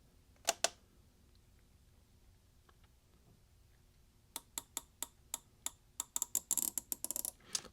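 A broken-in Craftsman V-Series ratchet wrench clicks during a backdrag test: two quiet clicks early, a pause, then a steady run of crisp ticks that quickens into rapid clicking near the end.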